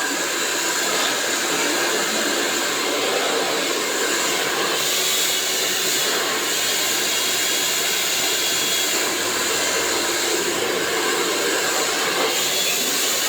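A hair dryer blows with a loud, constant rushing whoosh that stays steady and close throughout, its airflow filling the whole stretch.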